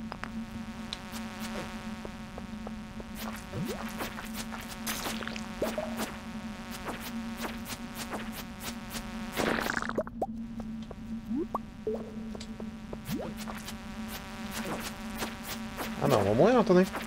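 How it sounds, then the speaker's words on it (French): Flies buzz steadily and thickly throughout in the farming game Stardew Valley, a dense insect drone with brief louder swells, while someone talks intermittently over it. "on va avoir énormément de mouches sur la gueule"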